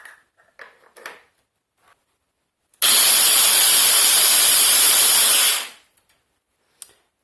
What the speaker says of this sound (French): Et je vais redonner un coup de mixeur.